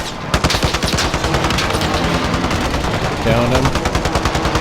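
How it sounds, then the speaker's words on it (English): Gunfire in Call of Duty Warzone with rapid automatic bursts and sharp shots, continuous and loud throughout. A voice speaks briefly over it. "I'm way far away and they're still shooting."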